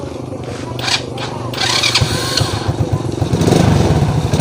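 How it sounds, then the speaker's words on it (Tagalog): A small motorcycle engine with a battery-operated CDI sputters and catches, then runs with a rapid, rising putter up close; someone talks briefly over it. "Napaandar na natin yung motor."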